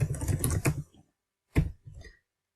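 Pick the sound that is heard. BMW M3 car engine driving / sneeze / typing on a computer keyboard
typing on a computer keyboard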